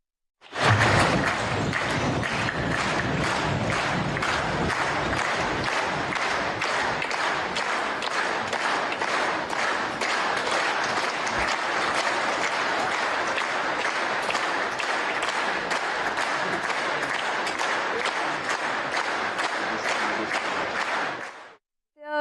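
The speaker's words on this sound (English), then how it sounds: "non-stop applause at the Parliament of Ethiopia after his address" Sustained applause fills the Parliament of Ethiopia after Prime Minister Modi's address, a dense, loud, continuous roar of many hands clapping for about twenty seconds before stopping abruptly.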